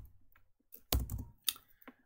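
Fingers tap on a computer keyboard while entering text in a Linux text editor: a few sparse, soft keystrokes followed by a louder flurry of clicks and two or three isolated presses, close and otherwise quiet.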